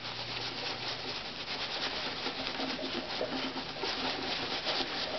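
Flitz polish being rubbed by hand into violin varnish, a continuous close scratchy rubbing with a slightly uneven rhythm, steady throughout with no talking.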